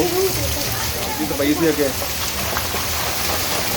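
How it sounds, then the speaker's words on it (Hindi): Heavy rain pours down on a street with rainwater flowing, a steady broadband hiss throughout while a person talks briefly over it. "वहाँ पे देखें बहुत तेज़ बारिश हो रही है"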